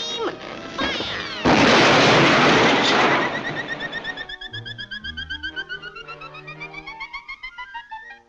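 A cartoon gun fires with a big noisy blast that lasts a second or two, then fades into a warbling ringing echo and musical trills; a voice is heard briefly at the very start.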